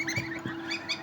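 Soft high-pitched peeping calls of newly hatched goslings, a few short chirps close by over a low steady hum.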